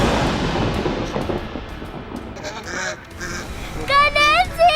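Performers in an Indonesian lenong comedy stage show voice-imitate swan honks, closing in a run of nasal, rising squawks after a stretch of noisy background chatter.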